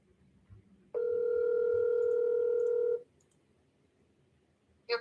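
Telephone call tone before a voicemail greeting: one steady, loud electronic tone lasting about two seconds, with quiet line hiss before and after and a brief blip at the end.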